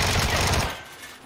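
Rapid automatic gunfire in the PUBG shooter game, a dense, loud burst of shots lasting about half a second that cuts off abruptly into quiet.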